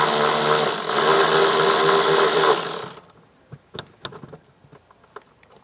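A ratchet or power driver runs steadily for about three seconds while loosening an 8 mm bolt behind a fold-down luggage hook panel in a 2023 Volvo cargo area. Several sharp clicks and small metallic taps follow as the tool stops.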